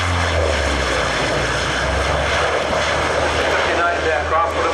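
A quiet jet aircraft lands at the Farnborough Airshow in 1992, giving a steady, loud, broadband engine roar that holds for several seconds with no break.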